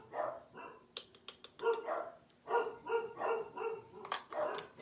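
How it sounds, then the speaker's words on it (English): Several dogs bark repeatedly in bursts, loud and fairly close, with an irregular rhythm of sharp yaps and deeper woofs across the whole stretch. "Did you miss the dogs? They're back."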